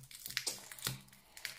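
Plastic sachet from an L.O.L. Surprise toy crinkling and crushing as it is opened, with sharp crackling bursts scattered irregularly through the short, close-up stretch.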